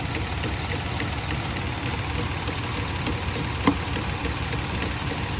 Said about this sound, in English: It's misfiring right now.